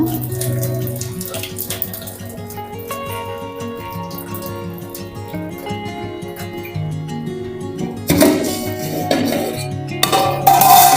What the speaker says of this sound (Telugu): రైస్ని అయితే నేను స్ట్రెయిన్ చేసుకొని ఇస్తున్నాను బాస్మతి రైస్ అన్నం వంచుకుంటున్నాను